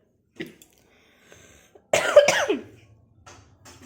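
A woman with a cold coughs and clears her throat: a small throaty sound early, then one louder, close cough burst, with quiet pauses around it.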